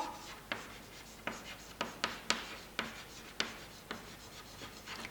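Chalk or marker strokes on a board during a chemistry lesson, a series of short scratchy taps and rubs at an uneven pace, close and fairly quiet, with no talking.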